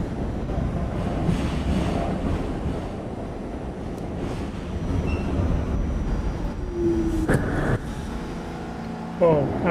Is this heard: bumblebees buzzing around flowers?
no